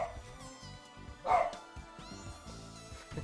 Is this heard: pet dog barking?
yes